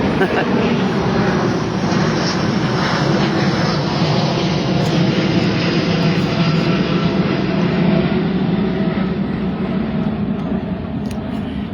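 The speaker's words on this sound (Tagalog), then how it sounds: "Laki ng aeroplano. Dumaan dito." Large airplane passing overhead at a cemetery, a loud, continuous low engine roar that holds steady throughout, with people talking faintly underneath.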